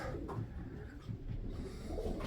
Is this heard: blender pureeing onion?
no